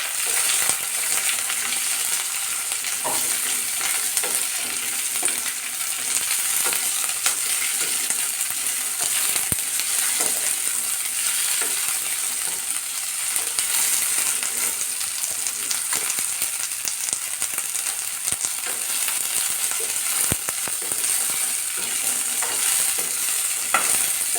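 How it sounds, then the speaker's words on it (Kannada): Onion and grated coconut frying in oil toward golden brown for a dhaba-style egg curry, a dense continuous sizzle with scattered stirring clicks, close and even in level, no voices. "ಈರುಳ್ಳಿ ಮತ್ತು ಕೊಬ್ಬರಿ ಹಾಕಿಬಿಟ್ಟು ಸ್ವಲ್ಪ ಗೋಲ್ಡನ್ ಬ್ರೌನ್ ಆಗೋ ಥರ ಫ್ರೈ ಮಾಡ್ಕೋಬೇಕು"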